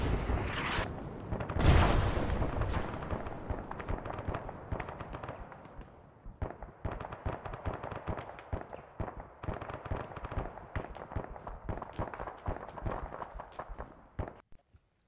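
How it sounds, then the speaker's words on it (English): Gunfire echoes at a distance in the ARMA military shooter game, a loud opening blast followed by a long run of irregular, rapid cracks and bursts that thin out toward the end. "Gunshots coming from the northeast"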